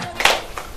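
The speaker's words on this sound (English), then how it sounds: "Let's applaud them, please." Short burst of applause from a debate audience, a few sharp claps rising and fading within a moment, loud and close.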